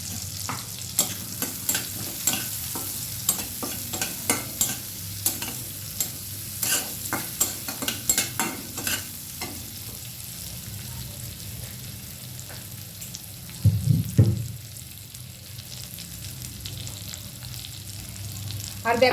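Small chopped onions frying in a pan with a steady sizzle and frequent clattering spatula strokes, busy at first, then quieter, with a brief louder clunk near the end.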